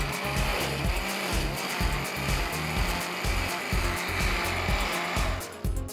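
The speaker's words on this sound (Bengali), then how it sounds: "আমি এখন এটাকে ব্লেন্ড করছি" Blender whirs at full speed through an egg and mango mixture for microwave mango pudding, a loud, rough motor drone with a churning, pulsing rhythm that cuts off at the end.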